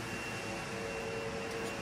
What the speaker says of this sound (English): We got the vacuum going.